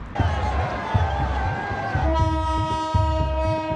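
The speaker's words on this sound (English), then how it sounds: "This is a train in India." A rumbling Indian train rolls by with rhythmic clacking, then a loud, sustained multi-tone horn blares over the rattle of the cars.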